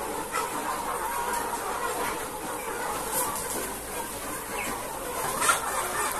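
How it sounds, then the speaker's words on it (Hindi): A poultry farm shed full of chickens gives off a continuous low murmur of clucking, moderately loud and even, with a few brief sharper calls over the steady flock noise. "यहाँ पे देखिए आप मुर्गे ही मुर्गे देखेंगे आपको"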